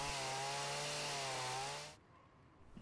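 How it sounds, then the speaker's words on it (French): A chainsaw cutting into a wooden block for a sculpture, its engine droning steadily and loud for about two seconds before cutting off abruptly into quiet room noise. "le sculpteur peut utiliser la tronçonneuse pour finir d'ouvrir le siège"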